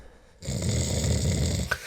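A man snores during a podcast recording, one long steady rasping breath that holds for over a second and then cuts off with a brief sharp catch.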